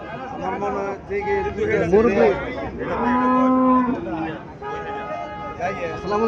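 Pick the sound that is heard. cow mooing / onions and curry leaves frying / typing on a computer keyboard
cow mooing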